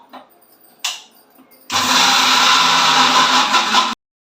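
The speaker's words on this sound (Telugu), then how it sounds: "ఇప్పుడు ముందు దీన్ని అయితే మిక్సీ పట్టుకుంటాను నేను" Kitchen mixer grinder whirs loudly for about two seconds, grinding flour with jaggery for Andhra-style bellam dibba rotti, starting abruptly after a few faint clicks and stopping sharply.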